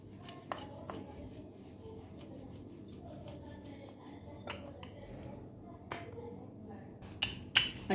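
Aloo paratha dough being rolled out with a rolling pin on a dusted surface, heard as quiet, repeated wooden rubbing strokes with a few sharp knocks and taps toward the end.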